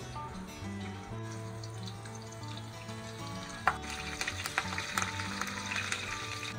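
Garlic and curry leaves sizzle steadily in hot oil in a pan, with light crackles and pops picking up as the frying goes on, close and fairly quiet.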